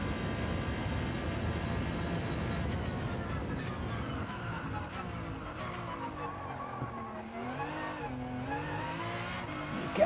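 Race car in the video game Gran Turismo 7 on a cold track, engine droning steadily as the tyres slide and squeal in long, wavering tones.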